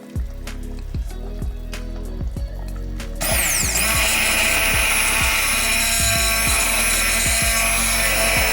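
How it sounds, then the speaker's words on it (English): An immersion blender whirs into broccoli-parmesan chicken soup, a low rhythmic thumping giving way after a few seconds to a loud, steady high-pitched motor whine that runs to the end. "And we get an immersion blender."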